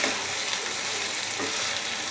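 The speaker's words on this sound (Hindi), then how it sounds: "एक बार हल्का सा मिक्स कर लीजिए।" Chilli paneer stirred in a pan over steady frying, a dense, even sizzle with soft spoon movements, close and continuous for a brief moment.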